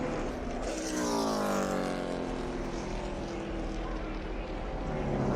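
A NASCAR Cup Series race car at full speed after a hard crash into the wall, a loud continuous engine roar with sweeping pitch shifts as it passes, under crowd and track noise.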